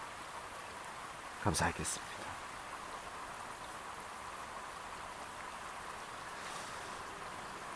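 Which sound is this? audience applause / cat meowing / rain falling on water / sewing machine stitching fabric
rain falling on water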